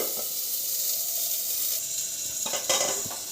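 Radish pieces frying under a lid in a covered pan, giving a continuous hissing sizzle with a few light clatters of the pan or lid toward the end.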